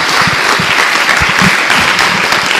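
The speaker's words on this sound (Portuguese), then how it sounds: "Dê uma salva de palmas a Jesus." A church congregation claps together in steady, dense applause that fills the whole space from start to finish, close and loud with no pauses.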